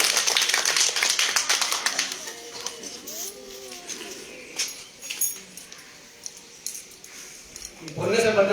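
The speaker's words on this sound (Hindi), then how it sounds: "पिताजी के लिए एक जोरदार तालियां।" An audience at a Holi gathering with children claps in loud, dense applause that fades into scattered claps and murmurs, then swells again briefly at the end.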